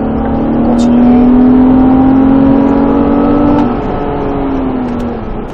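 A car lapping a race track in third gear under hard braking, the engine note a loud, steady close-up drone that dips and fades toward the end, with no talk over it.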